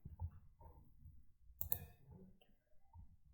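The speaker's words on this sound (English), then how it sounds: "Click on start designing." Computer mouse clicks tap out quietly and close up, a few scattered single clicks with one sharper cluster midway, all against near silence.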